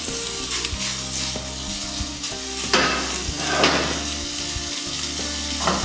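Food browns in a hot pan with a loud, constant sizzle and crackle up close, plus occasional stirring scrapes and no talking.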